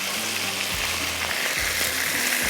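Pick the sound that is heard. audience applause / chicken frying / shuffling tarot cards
chicken frying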